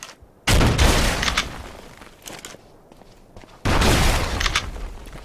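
Gunfire in the video game Ark Survival Evolved, blasting through walls: two loud, abrupt bursts of shots, each trailing off into crumbling rumble, with a quieter gap between them.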